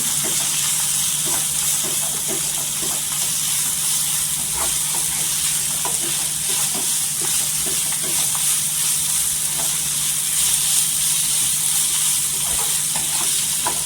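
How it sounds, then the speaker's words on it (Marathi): Washed, roasted dry shrimp (sukat) with lemon being sautéed in oil for chutney, a constant hissing sizzle with faint scattered crackles, steady and fairly loud throughout, without speech. "छान अशी तेलावर परतून घ्यायची"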